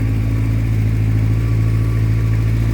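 A 1985 Honda 700 Nighthawk motorcycle idles after a cold start, its engine holding a steady, even, close-up rumble without revving or pauses.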